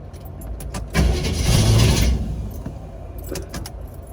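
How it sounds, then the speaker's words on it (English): Dad's old truck engine cranking as it is tried for a start, a loud close burst of starter churning that swells for about a second and then trails off into a rough rumble, without talk. "Go ahead and crank it."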